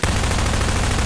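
A full-auto weapon in the Combine Insurrection video game fires a dense, unbroken burst of rapid shots, loud and close, filling the whole moment without pause.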